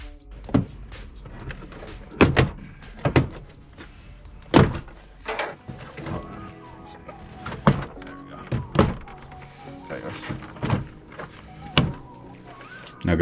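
Plastic clips on a car door trim panel pop loose in a string of sharp, close thunks and snaps as the panel is pried off during a speaker install, irregularly spaced with quieter handling noise between.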